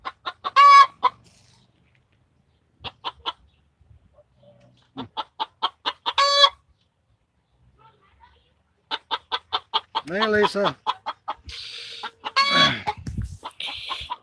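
Farmyard chickens cluck in short, rapid bursts, with a few drawn-out squawks mixed in. The calls are close and loud against quiet gaps, and a voice speaks briefly once.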